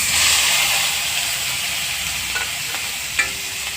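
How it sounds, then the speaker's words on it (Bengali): Banana stem paste fries with black cumin in a hot wok, giving a loud, steady sizzling hiss with a few sharp spatula scrapes and clinks near the end. "দিয়ে বেশিক্ষণ নাড়তে হবে না, সামান্য একটু নাড়াচাড়া করে নামিয়ে ফেলবো।"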